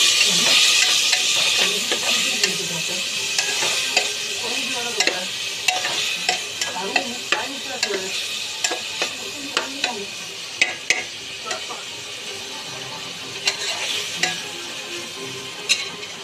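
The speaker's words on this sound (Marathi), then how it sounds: "1 मिनिट गवार फ्राय करायचा." Cluster beans (gavar) fry in a pan with a steady sizzle, while a spoon stirs and scrapes the pan in quick, repeated clicks close to the mic. No one speaks.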